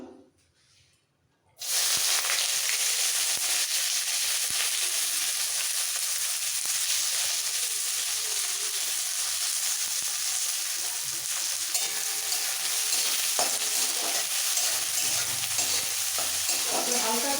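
Chopped onion hits hot mustard oil seasoned with cumin seeds and a bay leaf, bursting into a loud, steady sizzle after a brief quiet moment, then crackling on evenly up close without voices.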